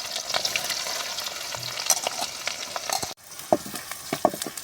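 Onions hit hot oil that already holds spattering mustard seeds, giving a busy frying sizzle with sharp pops and crackles, a brief drop in sound midway and then a renewed hiss up close, with no talk.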